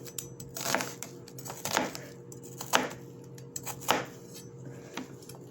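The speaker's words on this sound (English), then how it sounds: "And then I'll just chop it up." A knife roughly chops a peeled vegetable on a cutting board, giving four or five steady, close thuds about a second apart over a low background hum.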